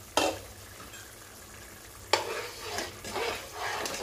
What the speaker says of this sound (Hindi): अब इन सभी चीज़ों को अच्छी तरह से भून लीजिए, इसकी अच्छी तरह से भुनाई होनी चाहिए।